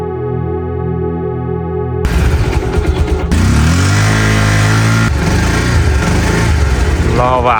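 A motorcycle engine runs loud and close, roaring and revving with a rough, uneven throb after a short steady tone at the start.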